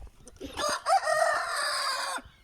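An Aseel rooster crows once, close and loud, a single drawn-out cock-a-doodle-doo lasting about two seconds.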